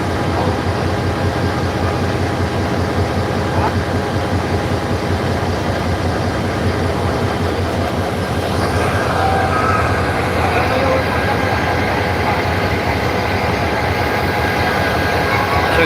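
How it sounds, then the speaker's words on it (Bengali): A train pulling into Kamalapur railway station in Dhaka, carrying passengers on its roof: a loud, continuous rumble and engine drone that fills the whole stretch, with faint voices mixed in. "দেখছেন যে ইতিমধ্যে একটি ট্রেন মোহাম্মদপুর রেল স্টেশনে প্রবেশ করছে"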